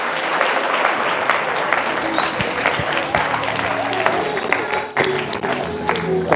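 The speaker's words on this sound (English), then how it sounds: "ladies and gentlemen, Mompoloki Makwana, clap hands for him." Dense applause from a sales conference audience fills the hall as a speaker is welcomed, continuous and fairly loud with crowd murmur mixed in throughout.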